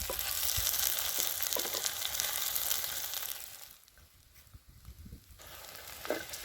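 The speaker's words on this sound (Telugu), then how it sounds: "ఉల్లిగడ్డ కొంచెం బ్రౌన్ కలర్ వచ్చేదాకా వేయించుకుందాం" Onions frying in oil in a pan for a budamkaya curry, a close, hissing sizzle that fades partway through, then returns with a few soft clinks.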